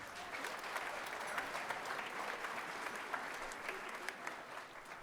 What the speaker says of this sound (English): how about a nice round of applause for Mr. Fay for helping out.